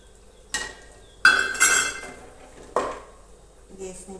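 Amaranth flour roasting in a pan, stirred with a metal spoon: a few distinct scraping clinks against the pan, one near 0.5 s, a cluster around 1.3–1.8 s and another near 2.8 s, with quiet gaps between.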